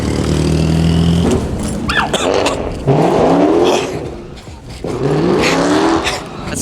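A drag car launching down the strip, its wheels spinning through every gear: a loud rising engine roar with repeated revving climbs and gear shifts, heard from inside.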